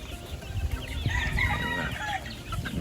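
A rooster crows at a game farm where gamefowl such as Texas birds are bred, a loud close call over the clucking of other fowl and a steady farmyard murmur.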